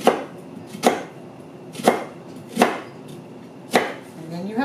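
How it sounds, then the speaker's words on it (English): A knife chops through a cross-hatched onion on a cutting board in five distinct, evenly spaced strikes, each a crisp close thud against a quiet background, with no talking. "You're going to cross-hatch the onion."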